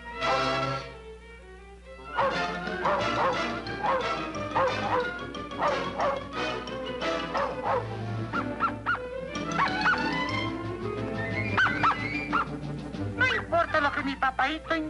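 Dogs in a 1962 Looney Tunes cartoon bark and yip repeatedly in lively bursts alongside music and voices, with honk-like yelps scattered throughout.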